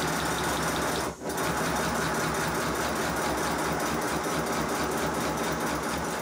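A 5 inch gauge Modelworks pannier tank model locomotive, under repair, runs in reverse with a steady, close mechanical whir and hum, loud and unbroken apart from one brief dip.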